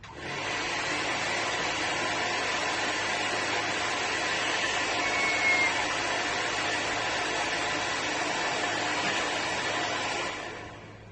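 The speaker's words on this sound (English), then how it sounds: "could you hand me my Pifco hairdryer?" A Pifco hair dryer runs steadily with a loud, airy whoosh and faint motor whine, starting and stopping cleanly.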